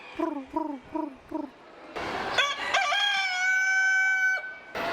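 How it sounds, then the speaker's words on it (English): Several short clucks lead into a loud, close crow from an all-black rooster at a state fair, a long drawn-out call with a strained, raspy rise. "An all black rooster."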